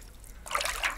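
Water trickles and splashes from washed goose feathers being wrung out by hand, for use as pillow filling; a short, close splatter begins about halfway through after a quiet start.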